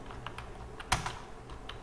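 Someone types a command on a computer keyboard in MS-DOS with a handful of quiet keystrokes and one sharper, louder key press near the middle, with no talking.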